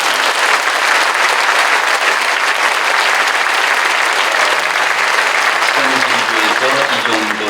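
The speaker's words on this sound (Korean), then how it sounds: "박수해 주십시오." A congregation at a Korean church anniversary worship service applauds loudly and steadily throughout, a dense crowd of clapping that fades slightly near the end.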